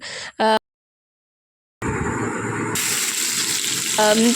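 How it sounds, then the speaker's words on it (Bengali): Dried chillies, bay leaf and garlic paste fry in oil in a kadai, giving a steady, close sizzle that starts abruptly after a silent pause, with brief snatches of a voice at the beginning and end. "মা এদিকে দেখো কড়াতে তেল শুকনো লঙ্কা তারপরে তেজপাতা রসুন বাটা দিয়ে দিয়েছে তো নাড়াচাড়া হচ্ছে"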